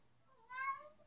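A single short cat meow, clear and fairly close, rising then falling in pitch against near silence.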